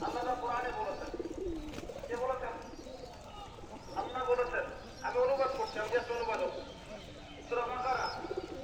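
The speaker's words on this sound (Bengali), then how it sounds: "এই যে আমার ছেলের হাতে কবুতর খাচ্ছে দেখেন" Pigeons eating from a boy's hand, with soft cooing and bird calls recurring in bursts over steady background noise, close by and moderately loud, with a voice talking at times.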